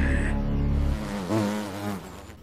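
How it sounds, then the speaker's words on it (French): A close bee buzz hums steadily for about a second, then fades into a short, higher-pitched whine. "une abeille passe par là"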